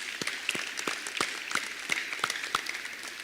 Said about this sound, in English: Again, one more round of applause.